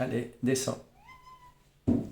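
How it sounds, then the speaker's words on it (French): A pet cat gives a single drawn-out meow between short bursts of a woman's speech, close and clear indoors. "c'est mon chat."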